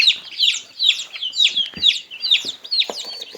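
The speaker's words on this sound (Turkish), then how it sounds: "Şu anda koyduğum civcivler normal köy civcivleri." Village chicks cheep in repeated high-pitched chirps, close by and fairly loud, several calls overlapping in a quick, continuous pattern.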